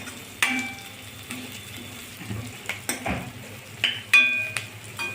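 Moong dal roasts in a pan for a rava and sweet corn upma, with a light dry crackle under irregular metallic clinks and scrapes from stirring, close and alone.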